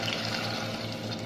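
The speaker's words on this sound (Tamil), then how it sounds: "இப்போ வந்து முருங்கைக்காவுக்கு தேவையான அளவு தண்ணி விட்டுக்கலாம்." Water runs steadily into a pot of drumstick curry as it is added while cooking, a continuous soft pouring hiss with no break.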